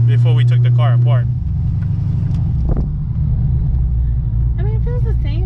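Inside a moving Pontiac G8, a deep, steady engine rumble drones throughout. People talk over it at the start and again near the end.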